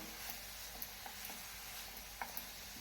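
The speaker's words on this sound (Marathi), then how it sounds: "पुन्हा एकदा भाजीमध्ये पूर्ण मसाले छान असे परतून घेऊया" Vegetables and spices sautéing in a pan for a samosa filling make a faint, steady sizzle, with light scattered clicks of a spoon stirring.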